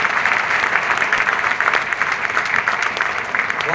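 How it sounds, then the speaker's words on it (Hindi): Loud, dense applause from a large audience at a business event in Borivali, sustained and even throughout with many overlapping claps and no voices standing out. "आप सब लोग के लिए एक जोरदार ताली होना चाहिए"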